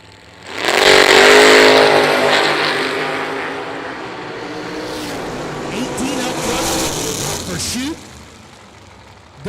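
A drag racing dragster in the Fuel Tech lane at the IHRA World Finals launches hard with a loud, roaring engine burst that fades down the strip, while an announcer talks over it.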